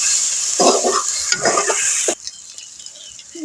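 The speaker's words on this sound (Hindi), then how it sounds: "अब हम इसको ब्राउन करते हैं।" Onion, garlic, ginger paste and chopped tomatoes sizzle in a pan while being stirred, with scraping utensil strokes over steady frying hiss; the stirring stops and a quieter sizzle continues.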